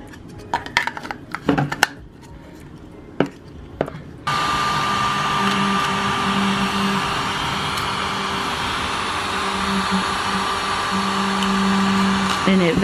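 A small tabletop vacuum cleaner for sewing and quilting tables switches on after a few handling clicks and bumps, then runs with a steady, close motor whine and hum that continues to the end.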